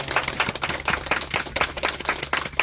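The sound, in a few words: audience clapping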